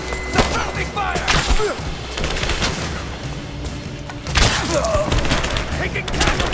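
Rise of the Tomb Raider combat with dense, rapid gunfire crackling in loud bursts from several weapons, joined by heavy thuds and shouted voices.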